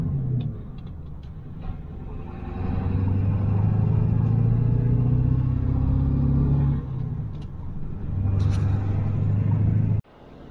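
A 7.3 Powerstroke diesel service truck cruises along the interstate with a steady low rumble and road noise, the drone rising and holding, easing briefly, then cutting off abruptly near the end.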